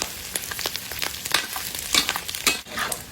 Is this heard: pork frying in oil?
yes